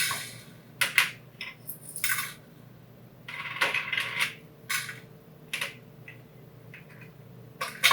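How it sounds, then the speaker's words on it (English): Whole spices dropped into the bottom of a deep pot for chai, giving a string of small hard clicks and rattles at irregular intervals, close and fairly clear with quiet gaps between them. "I'm going to go ahead and put all the spices"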